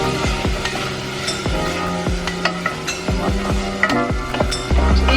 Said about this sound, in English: Is there anything better than the smell of cooking onions?